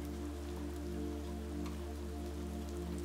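Steady rain falling in a sheltered forest beneath a canopy of trees, a constant dense patter with a low continuous hum beneath it, even in level throughout and with no voices.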